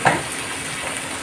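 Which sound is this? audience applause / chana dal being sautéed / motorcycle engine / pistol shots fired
chana dal being sautéed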